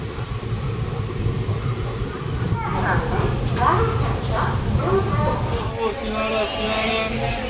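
A Vande Bharat Express train rumbles past nearby, its heavy rolling noise steady throughout, with people talking over it.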